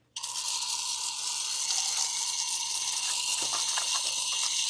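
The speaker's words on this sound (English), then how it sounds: "And then we just do another rinse." Water sprays steadily onto a forged gloss white wheel on a G87 BMW M2 during a rinse, a loud continuous hiss starting abruptly and running alone without pause.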